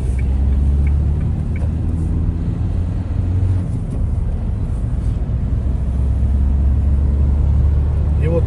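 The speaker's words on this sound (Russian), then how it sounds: "набрали 90 километров в час, и в салоне появился такой небольшой гул" Steady low drone inside a Renault Express cabin cruising at 90 km/h, a constant resonant engine and road hum filling the interior, with faint brief clicks over it and no speech.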